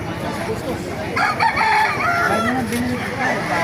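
Gamefowl roosters of Gilmore and SBR breeds crowing at a market, loud close cock-a-doodle-doos with clucking among other birds and busy background noise.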